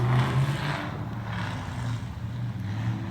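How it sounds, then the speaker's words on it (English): Traffic passes on a road beside someone working on a Corvette, a low, steady engine rumble and tire wash swelling gently as cars go by at a moderate distance, with no talking. "Hear all the cars going by"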